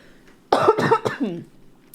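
A short burst of harsh, loud coughing, several quick hacks in a row, close to the listener, with quiet before and after.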